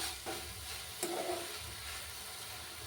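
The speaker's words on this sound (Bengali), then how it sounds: "যতক্ষণ না চিনি গলছে ভালোভাবে ততক্ষণ কিন্তু খুন্তি দিয়ে এটা নাড়তে হবে" A spatula stirs chopped apple and sugar in a pan on the stove as the sugar melts, giving a soft continuous sizzle with a couple of light scraping strokes, close and steady, with no talking.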